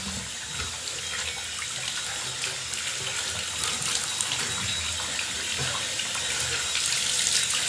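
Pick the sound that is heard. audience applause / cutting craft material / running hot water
running hot water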